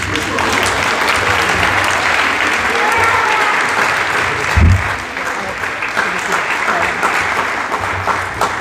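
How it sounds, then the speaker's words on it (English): Steady applause from an audience at a Class of 2021 ceremony, filling the whole stretch at an even level with a brief low thump partway through. "Give him applause."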